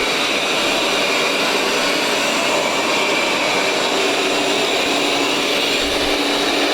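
A Roborock S7 Max V Ultra robot vacuum runs steadily while sucking up bread on the floor, a loud, constant whirring motor drone with a faint low bump near the end.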